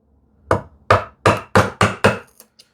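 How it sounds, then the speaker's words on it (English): A hammer drives a thin chisel into tenacious wood during hand-tool woodworking on a TV unit, giving six sharp, evenly spaced knocks followed by two lighter taps, close and clear with no talk. "I'll use the thinner chisel, and this is quite tenacious, so let me use the hammer."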